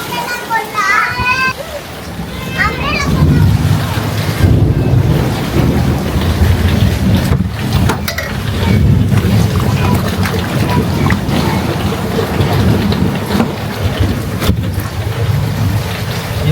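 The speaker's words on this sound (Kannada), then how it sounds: "ಇವಾಗ ಮಳೆ ಬರ್ತಾ ಇದೆ ಜೋರಾಗಿ ಅಷ್ಟೇ" Heavy rain with strong wind pounds down during a Bengaluru downpour while water floods into a house, a loud, steady broadband roar that persists throughout with voices talking over it.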